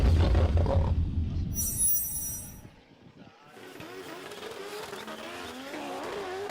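Drift car at Formula Drift Japan, Okuibuki Motorpark, a brand new build struggling to hold angle, roars loudly through the zone, then the engine note fades and rises again as the car slides past with a brief high tire squeal.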